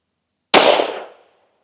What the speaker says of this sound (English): So I'm going to do a one-shot test here through the chronograph